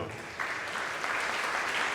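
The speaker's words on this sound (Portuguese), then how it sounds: "Uma salva de palmas aí, viu?" Applause from a dinner-debate audience, a dense steady patter of many hands clapping together, fairly even in loudness throughout.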